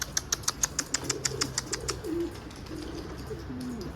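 A burst of rapid wing flaps as white pigeons take off, a quick clattering flutter, followed by soft cooing nearby.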